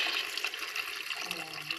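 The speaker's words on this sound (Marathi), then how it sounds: "आता याच्यात आपण पाणी टाकून देऊयात" Water splashes and gurgles as it is poured into a pot of masala rice, a short bright rushing pour heard up close.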